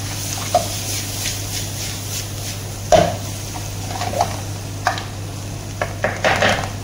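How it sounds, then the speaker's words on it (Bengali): Oil and black pepper stirred in a pot for chicken majboos, giving scattered clinks and scrapes of a spoon against metal over a steady low hum, close and moderately loud. "তারপরে একটু নাড়া দিই"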